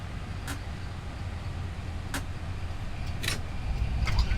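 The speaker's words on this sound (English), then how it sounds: "Speed brakes up. Reverse thrusters. Reverse is normal." An airliner's engines run in reverse thrust during the landing rollout in X-Plane 12, a steady broad roar that swells gradually toward the end, with a few brief clicks and ticks over it.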